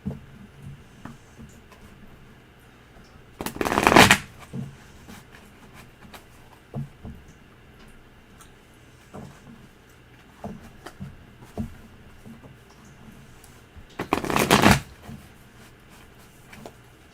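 A deck of tarot cards is shuffled in two short, crisp riffling bursts several seconds apart, over a quiet room with faint scattered small knocks and no clear talk.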